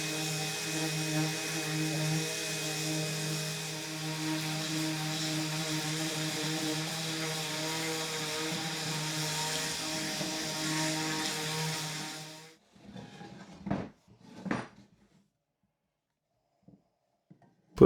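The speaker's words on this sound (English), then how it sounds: "Sand everything flat, then sand the frames." A power sander runs steadily on wooden 2x4 chair frames for about twelve seconds with a strong, even whine, then cuts off, leaving a few brief knocks and scrapes of wood being handled.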